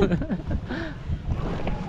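A boat at sea off Tawi-Tawi runs on a single engine, making a steady low rumble with wind noise. Voices talk over it.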